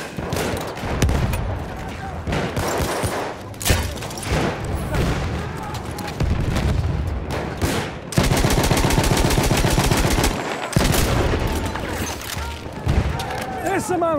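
Battlefield 1 online multiplayer combat: rapid bursts of automatic gunfire and single shots crackle loudly and nearly nonstop, with a long sustained machine-gun stretch and shouted voices mixed in.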